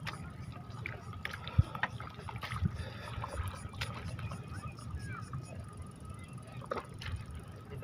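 A small fishing boat moves on open water, with low rumbling wash and wind buffeting the microphone, plus scattered knocks and faint voices in the background.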